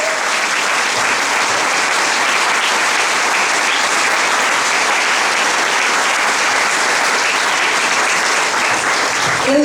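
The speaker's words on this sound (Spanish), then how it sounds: "Dale un fuerte aplauso al Señor" A church congregation applauds the Lord in a loud, dense, sustained wall of clapping that holds steady for nearly ten seconds without letting up.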